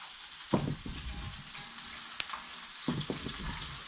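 A tomahawk steak sears in a hot pan in a remote cabin kitchen, a quiet continuous sizzle with a few louder bursts as the meat shifts, close by with no talking.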